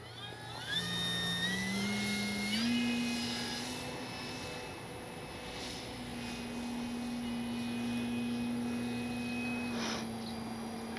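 A small FLEX Aviator 40E electric RC plane flying at low throttle makes a thin, steady motor whine that steps up in pitch early and then holds level, with faint wind noise and no talking.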